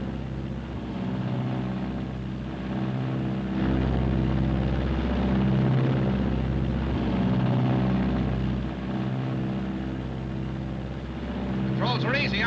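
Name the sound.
Martin B-26 bomber engines in flight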